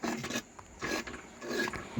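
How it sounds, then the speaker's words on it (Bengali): A spoon scraping and stirring thick palm fruit pulp boiling in a pot, rasping strokes repeating in a steady back-and-forth rhythm, close and fairly quiet with no voices. "এইভাবে কিন্তু নাড়তে হবে, তা না হলে নিচে কিন্তু পুড়ে যাবে।"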